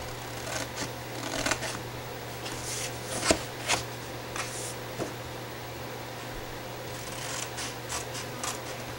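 Scissors cut through paper or card while a shadow box frame is being made, giving a series of short crisp snips and rustles close to the microphone over a faint steady hum.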